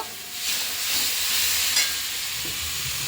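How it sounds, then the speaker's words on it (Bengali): Spice paste fries in a pan with fish, a steady close sizzle and hiss with soft stirring scrapes and no voices. "তার মধ্যে এটা ঢেলে দিলাম মশলাটা। এবার মশলাটা একটু কষিয়ে নেব, হালকা কষিয়ে"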